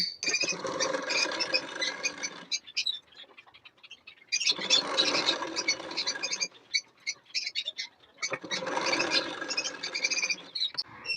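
A sewing machine stitches the sleeve of a nightgown in three bursts of rapid rattling, each lasting about two seconds, separated by quiet pauses with faint handling noise.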